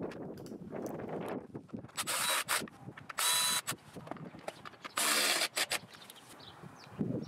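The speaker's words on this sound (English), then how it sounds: "put the final drive cover back on using the three screws and the hex H5 bit" Three screws driven into the final drive cover of a Honda Forza scooter with a hex H5 bit, giving repeated close ratcheting clicks and short bursts of tool rattle and rubbing, with no talk.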